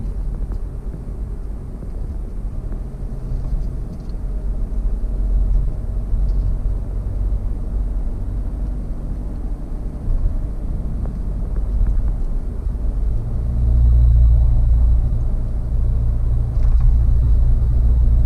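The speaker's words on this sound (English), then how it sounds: "Yeah, traffic." Slow road traffic gives a continuous low rumble that swells louder in the later stretch as vehicles pass nearby, with no voices.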